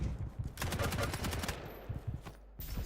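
Rapid repeated blasts and crackling explosions from a video game rocket duel ring out in dense bursts, loud and close, with a brief lull before the firing resumes.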